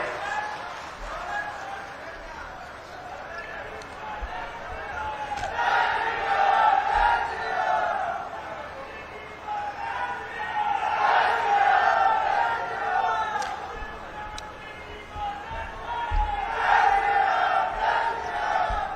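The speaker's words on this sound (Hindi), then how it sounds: "एक बार माननीय मुख्यमंत्री महोदय के स्वागत में जोरदार नारे लगाएंगे" Large crowd at a Chief Minister's inauguration event chanting loud slogans in rising and falling waves, with amplified voices leading the chants.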